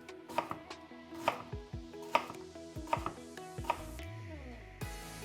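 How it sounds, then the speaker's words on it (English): A knife chops ginger into small pieces on a board, giving a loose series of crisp, close knocks with a faint clink and a soft background hum, no voices. "take around a 3-inch piece of ginger and cut into small pieces"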